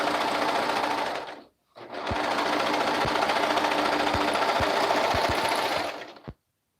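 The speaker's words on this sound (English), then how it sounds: "I'm going to sew the seam down the sides" A sewing machine stitches a side seam in two loud continuous runs with a short pause between, its rapid mechanical whir punctuated by a few clicks before it stops.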